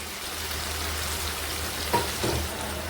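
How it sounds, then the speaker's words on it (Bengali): Tomato and spice paste frying together in a pan, a steady soft sizzle with a couple of brief stirring clatters near the end. "টমেটোটা বেশ ভাজা ভাজা হয়ে গেছে, এবার দিয়ে দেব পেস্ট করা মশলা"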